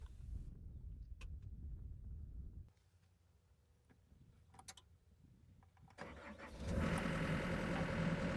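A John Deere compact excavator sits quiet with a few faint clicks, then its engine cranks and catches, settling into a steady, loud idle.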